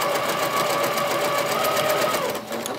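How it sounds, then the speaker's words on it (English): A sewing machine stitches a quarter-inch quilt seam at an easy pace, its close, loud, fast rhythmic whir running steadily for nearly three seconds before slowing at the end. "Put it in the sewing machine. I'm going to sew my 1/4 of an inch seam again."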